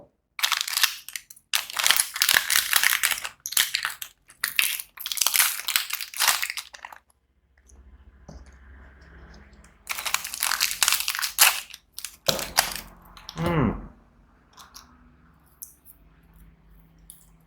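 A Tango chocolate wafer snack package is torn and crinkled open, loud close crackling plastic in bursts with short pauses between them.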